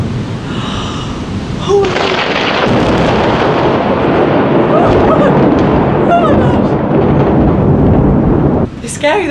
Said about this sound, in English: it started thunder and lightning